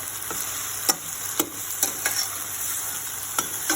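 Tomato rice base with salt and turmeric frying in a pan, a continuous sizzle broken by about half a dozen sharp spatula scrapes and taps at uneven intervals, close and clear with no voices.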